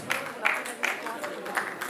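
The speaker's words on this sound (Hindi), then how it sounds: "जोरदार तालियां बजती रहनी चाहिए।" An audience at an agricultural event in Uttar Pradesh with the Chief Minister applauds in a rhythmic, moderately loud patter that sits under a speaking voice.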